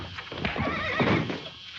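A horse in a 1949 comedy-drama film gives a loud, close, wavering neigh lasting nearly two seconds, with faint hoof clatter beneath.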